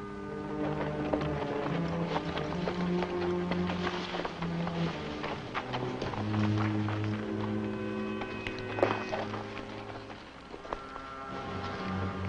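Rhythmic hoofbeats clatter steadily at moderate distance, a running pace that continues throughout with some background noise and no speech.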